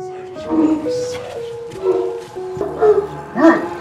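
A large male tobet, a Kazakh shepherd dog, barks in a few short bursts spread across the clip, mixed with steady tonal music in the background.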